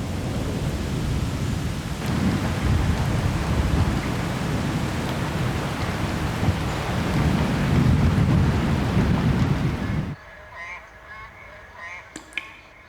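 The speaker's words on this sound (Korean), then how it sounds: "여름, 첫 장맛비가 옵니다." First monsoon rain of summer pours down as a loud, dense, steady downpour with low rumbling for about ten seconds, then drops abruptly to a much quieter background with a few faint sharp clicks.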